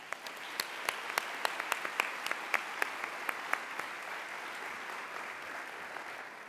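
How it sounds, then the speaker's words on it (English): Audience applause at a nursing summit for National Black Nurses Association leaders: steady hall-wide clapping with sharp individual claps near the start, holding through to the end at moderate loudness. "Please join me in a round of applause"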